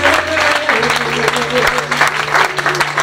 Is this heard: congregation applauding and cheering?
yes